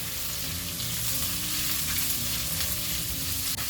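Mushrooms and eggs stir-frying in a pan, a steady close sizzle with scraping stirs throughout, no talking.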